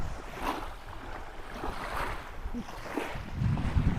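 Sea waves wash and surge on a beach, with gusts of wind buffeting the microphone and a heavier rush of surf building toward the end.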